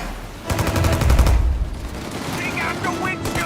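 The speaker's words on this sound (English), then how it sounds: "Shoot out your gun when there's a break in the fire!" Bursts of rapid gunfire in the Mafia video game crackle and boom in a loud fusillade, with a voice talking over the shooting.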